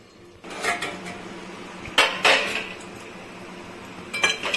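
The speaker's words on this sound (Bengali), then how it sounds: "আবার ঢাকা দিয়ে দিই, একদম গ্যাস সিম করে দিয়ে মাংসটা করছি আমি।" A lid is set back on a pot of mutton curry simmering over a low gas flame, giving a few sharp metallic clanks and clinks close by, with a quieter rattle near the end and no talking.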